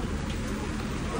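Heavy rain comes down as a dense, steady hiss of downpour with no pauses, close and moderately loud.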